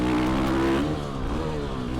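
A Factory Edition Husqvarna 450 dirt bike engine pulls hard and loud up close, its strong steady drone climbing in pitch and easing off toward the end, with no voices.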